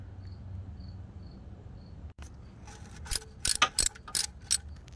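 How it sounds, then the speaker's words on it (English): A 10mm socket wrench ratchets in short, quick bursts of clicks while loosening oil pan bolts on a 2009 Hyundai Elantra, close, after a quiet stretch where a faint insect-like chirp repeats in the background. "you're gonna need a 10mm socket to remove all the bolts around this pan"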